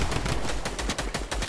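Rapid gunfire in a video game, a dense burst of repeated shots close and loud for about a second and a half.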